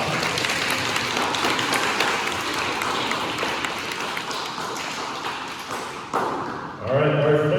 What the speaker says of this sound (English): Let's give that class a big round of applause.